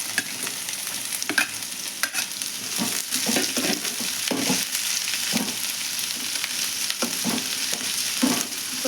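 Pieces of snake gourd and onion fry in a hot pan with a continuous sizzle, punctuated by repeated scraping strokes of a spoon stirring them at an uneven rhythm, close and fairly loud, with no talking.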